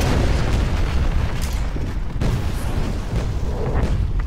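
Missile strikes from a HIMARS launcher exploding in the real-time strategy game C&C Generals Shockwave Remastered, a loud, continuous rumbling barrage with heavy booms and bursts layered over one another.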